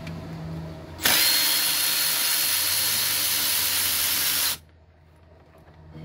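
A power tool runs in one steady, loud burst of about three and a half seconds while taking out 14 mm bolts on a Nissan D21 Hardbody pickup, with a hissing whine, and then stops abruptly.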